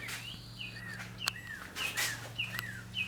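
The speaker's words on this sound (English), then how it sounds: "Keep singing, bird. I like it." An outdoor bird sings repeated short chirping phrases at moderate distance over a steady low hum, with a few louder sharp notes near the end.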